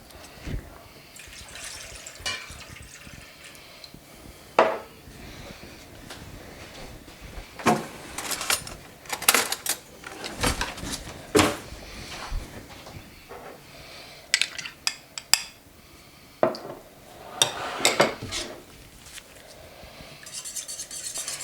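A whisk clatters and scrapes in a bowl, mixing wine, water, sour cream and mustard into a sauce, in quick irregular bursts of metallic tapping and stirring, close and fairly loud, with no talk.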